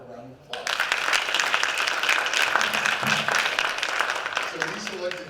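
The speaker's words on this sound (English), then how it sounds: "let's give her a round of applause." An audience at a rural community development institute kickoff breaks into sustained, loud applause that starts abruptly and continues to the end, with talk briefly around it.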